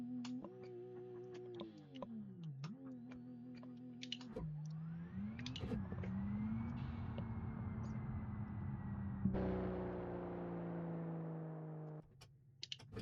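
A Porsche 911 in the BeamNG driving game, without a manual gearbox, revs and climbs through gears with a rising and falling engine tone, punctuated by sharp keyboard and mouse clicks throughout.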